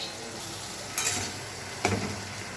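Spiced masala for a fish curry with potato and eggplant sizzles while being stirred in a pan, a close, even hiss broken twice by short, louder scraping bursts as the mixture is moved.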